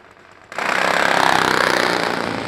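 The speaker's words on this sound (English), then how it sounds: "Final pair in the Nitro Funny Bikes." Nitro Funny Bike drag racing motorcycles fire up at a drag strip, a sudden loud, harsh, rapidly pulsing engine roar bursting in after a quiet moment and holding steady.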